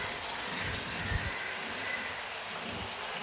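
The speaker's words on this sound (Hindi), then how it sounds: "थोड़ा सा 1 से 2 टेबल स्पून मैंने इसमें पानी डाली है" A tablespoon or two of water goes into a pan of fried chicken and hisses up in a loud, steady wash of spluttering sizzle close by, with no pauses.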